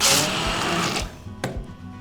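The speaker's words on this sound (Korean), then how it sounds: "이렇게 핸드블렌더로 그냥 보면서 가시는 게 제일 편해요." A hand blender grinds soaked mung beans for mung bean pancake batter, buzzing loudly for about a second, then it drops off and restarts in short bursts.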